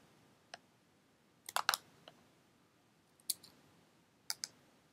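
Scissors snip a cotton wick for a vape coil, giving a few faint, sharp clicks scattered over several seconds, some in quick pairs, in a quiet room.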